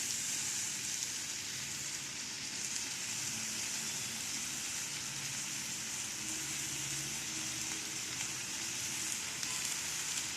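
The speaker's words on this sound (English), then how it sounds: "time to add our palak or chopped spinach into the cauliflower" Chopped spinach cooks with cauliflower in a pan for a Bengali-style gobi palak, giving a continuous soft sizzle and hiss like light rain, steady and moderately quiet throughout, with no talk.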